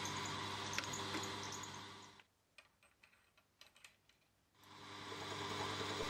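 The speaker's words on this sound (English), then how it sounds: "I carry on in the milling machine to clean up all the faces and square up the edges." A milling machine squaring up the faces of a small metal part, a steady dense machining hum that drops away midway, leaving a few faint ticks and clicks before the cutting noise returns.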